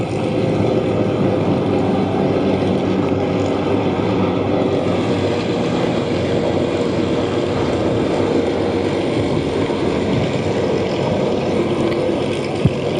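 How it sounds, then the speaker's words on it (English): A Douglas DC-3 drones past at an air show, its propeller engines giving a steady, loud, rumbling roar that holds throughout. "Her Majesty, the DC-3."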